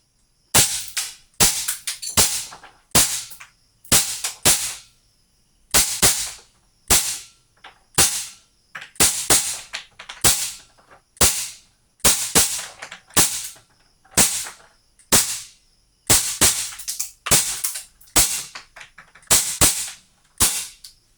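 A WE Hi-Capa T-Rex gas airsoft pistol fires about 25 rounds one at a time. Each shot is a sharp, loud, close crack, spaced at a fairly steady pace with brief gaps in between, and no one speaks.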